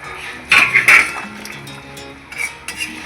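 Fried lentil fritters dropped into a pot of dal, heard as a few sharp metallic clinks of utensils against the pot in quick succession, followed by softer scattered knocks.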